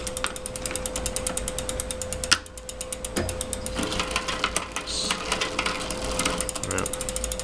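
On a bicycle, a rear derailleur shifts gears while its limit screw is adjusted. The drivetrain spins with a rapid, steady ratcheting tick and a few heavier mechanical clunks, all close up.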